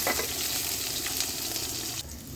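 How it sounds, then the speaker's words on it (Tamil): Chopped onions sauté in hot oil for a radish sambar, a close, steady, loud sizzle with a brief shift in texture near the end and no voices over it. "இப்போ அது நல்லா வெங்காயத்தை வதக்கிக்கலாம்."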